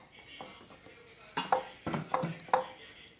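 A spoon knocks and clinks against a bowl while a chicken noodle cutlet mixture is mixed with bread crumbs. The sharp taps come in a quick irregular series, close and fairly quiet.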